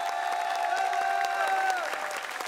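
A concert audience applauds through a tribute evening of songs, steady dense clapping with a crowd feel, held under sustained musical tones that fade near the end.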